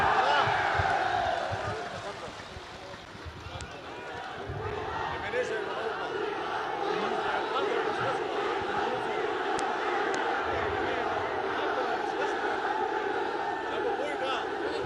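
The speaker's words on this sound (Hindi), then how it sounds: "जरा हाथ उठाकर तालियों की गूंज में बताइए आप इमरान खान से कितना प्यार करते हैं।" Large outdoor crowd at a PTI political rally in Karak, Pakistan, roaring and clapping continuously, a dense, loud wash of voices and applause that dips briefly before surging back and holding steady.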